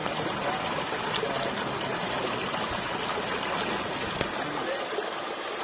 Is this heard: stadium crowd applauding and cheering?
no